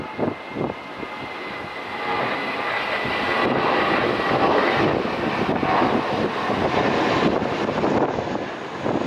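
A JetBlue airliner in a special livery flies past an airport. Its jet engines roar loud and broad, building and holding for several seconds, with wind buffeting the microphone and no talking.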